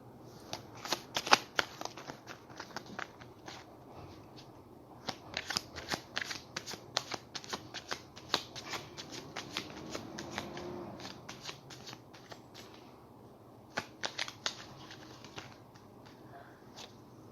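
Tarot cards being shuffled during a reading, soft close riffling and flicking in irregular bursts with quiet gaps, faint and intimate, no speech.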